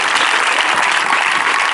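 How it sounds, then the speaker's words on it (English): A church congregation claps together in a loud, dense, continuous burst that stays close and steady throughout. "Clap for Jesus Christ."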